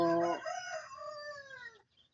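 A single rooster crow rings out close by, a loud rising call stretching into a long drawn-out note, then fading, with faint clucks at the end.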